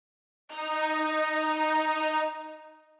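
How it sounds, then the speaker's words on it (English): A synth string preset holds a single sustained note for about two seconds, bright and steady with rich harmonics, then fades out, alone and fairly soft, as part of a wavy type beat. "Then I added a string, but this time it's only playing one note but affecting the beat way harder."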